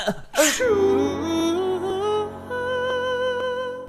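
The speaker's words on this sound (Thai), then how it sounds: "และนี่คือวิธีเนียนเวลาที่คุณจาม" A single loud sneeze bursts out near the start, followed by a sustained, wavering tone that sounds like a melodic hum or sung note stretching through the rest of the moment.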